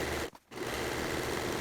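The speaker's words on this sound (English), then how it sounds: "I do use the sewing machine quite a bit for projects" A sewing machine stitches fabric for a saw sheath made from old pants, running in a loud, steady buzz with one brief pause before it picks up again.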